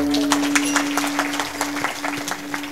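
An audience at a live Marathi religious discourse claps in a loose, scattered patter of individual hand claps over a steady electrical hum.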